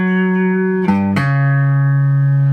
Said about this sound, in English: whenever you hear something that sounds very tensiony, it's probably a tritone